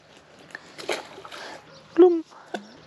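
A fish tossed back into a pond lands with one short, close splash amid a man's speech by the water during float fishing.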